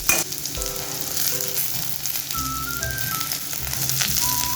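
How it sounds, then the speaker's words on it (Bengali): Chopped tomato hitting a pan of onions fried light red over medium flame, a steady loud sizzle and crackle with occasional scraping stirs, close and continuous with no talking. "এবার টমেটো কুচিটা দিয়ে দেবো।"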